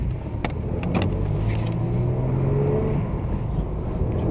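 A Ford Capri 2.8 Injection pulls away and gains speed on a road near a junction, its engine note rising steadily over loud constant road and cabin noise.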